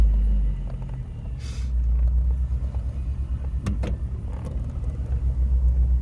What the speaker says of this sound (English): synchros are excellent, no grinding whatsoever, do a downshift for you, third gear